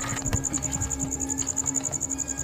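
A steady high-pitched grasshopper chirring at night pulses rapidly and continuously, with faint low rustling and knocks nearby underneath.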